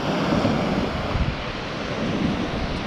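Ocean surf rolls onto the sand at Old Orchard Beach at dusk, a steady, full wash of breaking waves mixed with gusty wind buffeting the microphone, with no voices.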